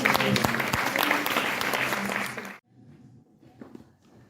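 Applause from a church convention congregation, loud and dense clapping for about two and a half seconds, then cutting off abruptly into quieter room sound with a few scattered claps and shuffles.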